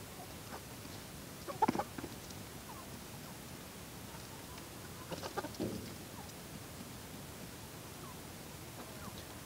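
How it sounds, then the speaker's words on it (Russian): Hens in a farmyard peck at frozen buckwheat soup inside a bucket, with two faint, brief bursts of clucking and knocking over quiet background hiss. "Там курица в ведро залезла, вчерашний суп доедает, примерзший."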